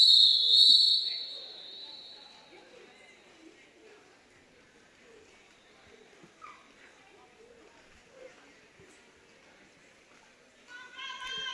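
A referee's rolling whistle at a roller derby bout opens loud and shrill for about a second, then gives way to a low arena murmur with faint crowd noise, and a brief whistle-like tone returns near the end.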